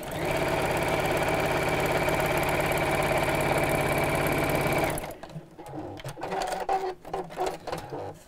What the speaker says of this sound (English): I'm going to use the same seam allowance, which is about half an inch or a centimetre, and sew all the way down